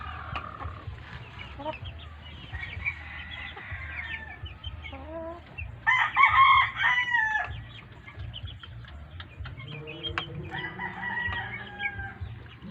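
Chickens cluck steadily around a backyard coop, with a louder burst of rooster crowing near the middle and more fowl calling throughout, close and fairly clear.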